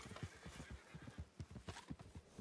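Rhythmic hoofbeats clip-clop along with a horse neighing in a video game, steady and fairly close, with no talking.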